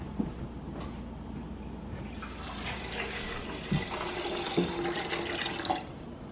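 Four cups of water poured into a cooking pot on a stove, a steady splashing, running pour close by that continues for several seconds at moderate level.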